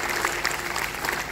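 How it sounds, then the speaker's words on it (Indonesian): A church congregation claps briefly, a soft, fairly distant patter of applause in a hall. "Tepuk tangan buat Tuhan gitu."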